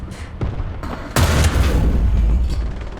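A tank cannon shot in War Thunder, fired from a German Panzer IV Ausf. H medium tank, lands as a loud close boom that hits the ammunition, followed by sustained rumbling blast noise; earlier there are fainter thuds.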